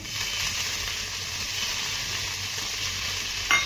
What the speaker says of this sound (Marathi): त्यानंतर यावरती आपल्याला थोडंसं पाणी शिंपडून घ्यायचं आहे